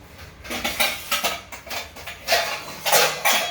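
A series of clattering clinks and scrapes of utensils against dishes as walnuts are put into a bowl, irregular and close, with no talking.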